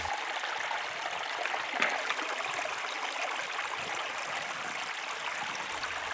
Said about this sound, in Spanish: hay pequeñas corrientes de agua que se unen en un mismo cauce